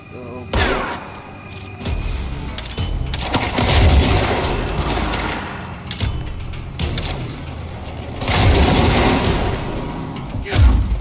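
Gunfire and impacts in the game Control, a string of loud sharp bursts and crashes spread across several seconds, with bursts clustering in intense flurries and a voice speaking between them.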